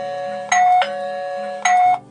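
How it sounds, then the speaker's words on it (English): A PYBBO smart WiFi video doorbell chime rings twice in a row, each a bright two-tone electronic melody, loud and close with no voices. "press the doorbell, it rings"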